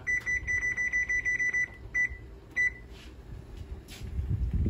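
A kitchen timer being set gives rapid, high-pitched electronic beeps in quick bursts, then a few separate beeps, followed by low clattering and rustling as a pot of eggs is lidded.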